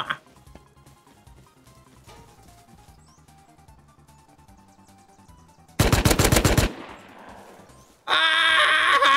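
A Tommy gun in a video game fires a loud, rapid burst of closely spaced shots lasting about a second, then a second sustained burst after a short pause, with quieter game sounds before.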